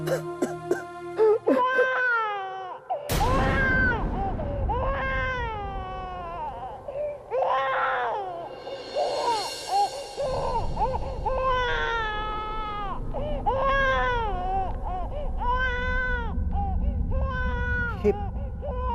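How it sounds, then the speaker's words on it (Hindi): An infant wails in long, rising and falling cries, repeated over and over with brief catches of breath, loud and close with no talk over it. "बच्चे की रोने की आवाज।"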